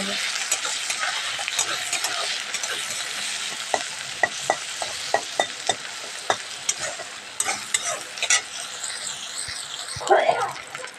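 Onion, tomato and ginger frying together in a pan, a continuous sizzle broken by repeated scraping stirs of a spatula, with a brief louder clatter near the end.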